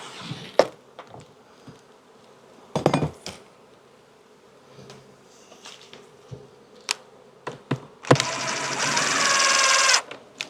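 Honeybees buzzing close by at an observation hive being split, with scattered clicks and knocks, then a loud steady whooshing roar near the end.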